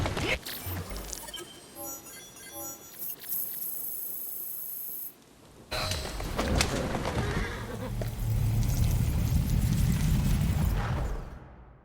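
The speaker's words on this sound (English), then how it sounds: "Who's a good horse? You are." A horse whinnies in the video game Assassin's Creed Syndicate over layered game music and effects, followed by a loud rumbling, booming wash of noise that cuts off at the end.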